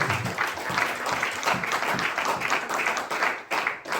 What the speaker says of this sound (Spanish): Entonces tenemos una ofrenda de palmas a ese gran Rey